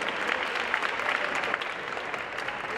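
Dense, steady audience applause fills a scholarship gala and fashion show as the crowd claps for an honoree, sustained and even throughout with no voices over it.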